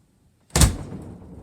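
A single door slams shut in a home, one sharp, loud thud with a short fading rattle, heard alone against a quiet room.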